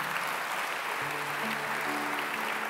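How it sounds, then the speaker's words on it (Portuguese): A church congregation applauds in a continuous dense patter, with faint sustained tones rising beneath the clapping. "Vamos aplaudir a palavra do Senhor"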